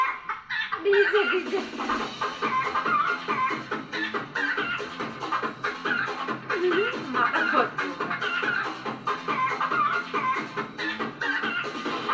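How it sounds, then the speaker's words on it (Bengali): Chicken clucking in steady, dense bursts through the whole stretch, fairly close, with a faint voice briefly at the start. "কেমন করে মুরগি?"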